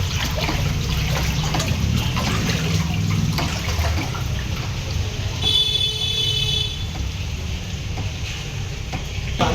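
Floodwater from heavy rain rushes through flooded streets in Sivaganga, a continuous broad wash of flowing water with a passing vehicle horn sounding midway.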